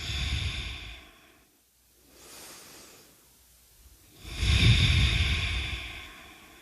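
Deep yoga breaths during a seated moon salutation, two long breathy exhale-inhale swells with a quiet pause between, close and fairly soft, no talking.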